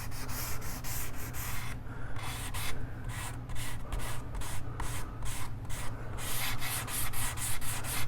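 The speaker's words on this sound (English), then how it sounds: "you can pretty much just kind of go along with the edge. And get that sanded nice and smooth." A wooden Leo Jaymz BC guitar kit body is hand-sanded along its edge, with loud, close rhythmic back-and-forth rasping strokes that repeat steadily throughout, alone without talk.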